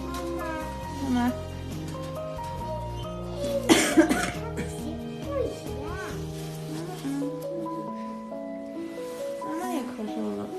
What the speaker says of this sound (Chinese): 妈妈也咳嗽了。